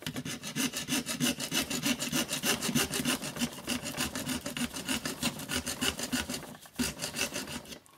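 A small hand saw cuts through the plastic magwell of a Nerf Fortnite BASR-L sniper blaster in quick, even back-and-forth strokes. The close, raspy sawing runs steadily with one brief pause near the end.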